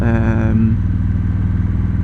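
Victory motorcycle with a big engine and performance exhaust, a deep, loud, throbbing idle rumble close by, briefly rising in pitch before settling back to a low, steady pulse.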